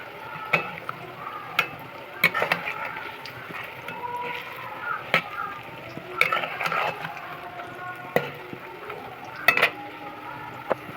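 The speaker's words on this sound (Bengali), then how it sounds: "দেখুন কোপ্তাগুলো খুব সুন্দর করে ভাজছি এপিট ওপিট করে ভাজতে হবে" Green banana koftas, made without potato, fry in hot oil with a steady low sizzle, broken by repeated sharp clinks and scrapes of a utensil against the pan as the pieces are turned.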